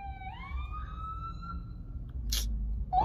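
An emergency vehicle siren wails on a street, rising and holding its pitch as it passes, over steady traffic rumble, followed by a brief sharp clatter.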